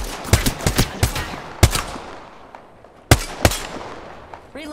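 Bursts of automatic gunfire in the battle-royale shooter Apex Legends, with rapid clustered shots, a pause, then two more sharp loud volleys near the end.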